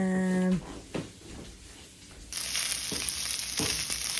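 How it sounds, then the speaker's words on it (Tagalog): Leftover rice frying in a pan into fried rice: a steady close sizzle swells in loudly partway through, with faint stirring clatter, after a brief tone and some quiet kitchen sounds. "Ito na pong konting bahaw natin, ginawa natin ng fried rice para hindi masayang."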